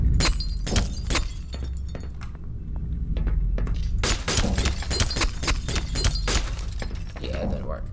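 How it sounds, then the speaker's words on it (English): Glass breaking in Black Mesa, a series of sharp shattering crashes and tinkling shards spread across several seconds, with a few isolated hits first and then a rapid flurry, while someone talks. "See if I can break the glass."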